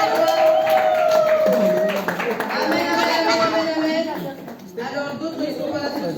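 A church congregation applauds loudly during a Sunday service, dense clapping and cheering filling the room with voices talking over it, easing off briefly near the end.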